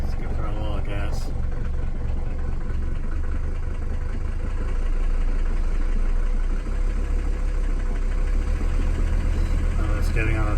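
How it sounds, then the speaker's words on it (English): A Mercedes 300D diesel engine runs close by with a steady low clatter, rising slightly as the throttle is opened a little, while someone talks over it. "I'm just getting on the throttle a little bit here."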